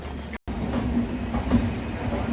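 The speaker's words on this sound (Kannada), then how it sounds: "ಅದಾದಮೇಲೆ ಟ್ರೈನ್ ಬಂತು." A train running on rails as it arrives at Yeshwantpur Junction platform, a steady rumbling roll with faint rhythmic clatter throughout and no talk.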